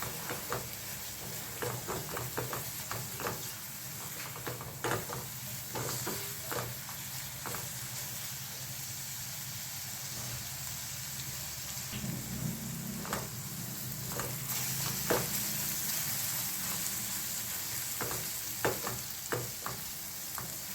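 Chili powder, turmeric and cumin powder frying in oil in a pan, a continuous quiet sizzle broken by repeated clicking stirs and scrapes, close up with no talk.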